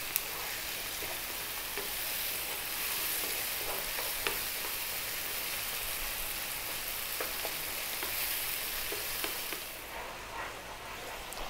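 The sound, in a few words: tomatoes sizzling in a pan while being stirred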